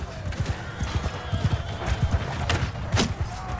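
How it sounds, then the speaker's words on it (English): Riderless horses clip-clop loudly and close in a chaotic Mount & Blade II: Bannerlord battle on PS5, hooves beating in a fast, steady, uneven patter with a short whinny near the end. "A lot of riderless horses."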